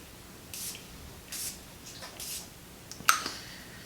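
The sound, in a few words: spraying Caudalie Beauty Elixir face mist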